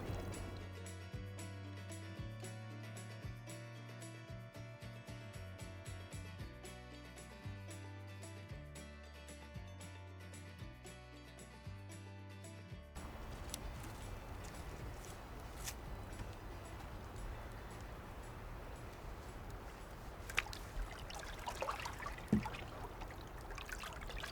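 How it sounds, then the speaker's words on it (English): Water in a stock tank hot tub sloshes and swirls steadily as it is stirred with an oar, with a few sharper splashes near the end; steady music plays for the first half. "We'll just use this to stir the tub and get those water layers mixed."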